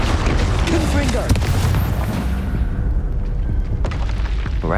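A Confringo blast spell in Hogwarts Legacy sets off heavy, rumbling explosion booms that fill the scene, with dense low roar and crackling debris, easing slightly partway through.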